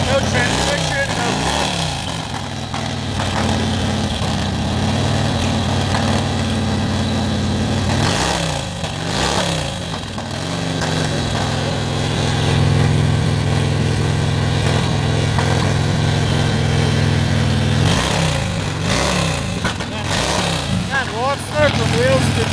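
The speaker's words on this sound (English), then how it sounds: "The knucklehead fires off first, spins the tire, and then gets the other one." Antique knucklehead race motorcycles fire up at a board track race start, loud rough engine rumble and revving with bursts of acceleration throughout, mixed with crowd noise and someone talking over it.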